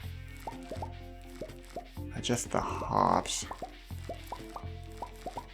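Stardew Valley watering-can sounds repeat in a steady rhythm as crops are watered, a string of soft plops and drips with a brief splashy burst in the middle, while a person talks over them.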